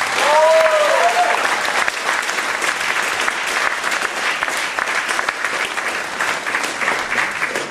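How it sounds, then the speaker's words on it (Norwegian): Dense, sustained applause from a revue audience thanking the sponsors, a steady wash of many hands clapping together, loud and full throughout, with brief cheering at the start. "Så gi sponsorene våre en kjempestor applaus."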